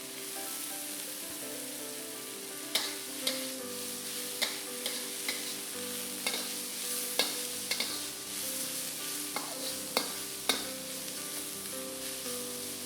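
Choy sum greens stir-fry in a pan with sesame oil, sizzling steadily beneath sharp, spaced clacks of a utensil tossing them. The sound is close and fairly quiet, with no voices.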